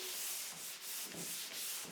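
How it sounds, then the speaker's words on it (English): Steady rhythmic scraping of drywall being sanded with a pole sander, long even strokes repeating about every half second, close and continuous. "I can take long strokes as I'm sanding"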